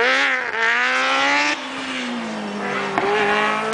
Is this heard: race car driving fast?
yes